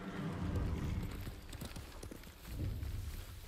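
Horse hooves clip-clopping in the samurai video game Ghost of Tsushima, a steady walking rhythm of muffled hoofbeats over low ambient rumble, moderately close and fairly quiet.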